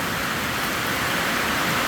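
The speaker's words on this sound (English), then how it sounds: "pouring down rain. Very noisy." Heavy rain pours on a metal building in a steady, dense roar of hiss and drumming, loud and unbroken, with no voices.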